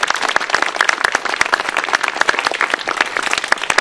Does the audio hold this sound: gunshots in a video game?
no